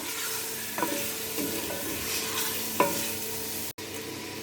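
Chicken fries in a pan with a steady soft sizzle, while a spoon stirs and scrapes through it a few times, giving brief clinks over the constant hiss.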